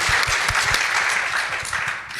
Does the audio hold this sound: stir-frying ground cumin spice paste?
no